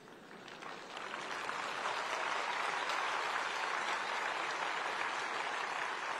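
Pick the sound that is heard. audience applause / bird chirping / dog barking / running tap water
audience applause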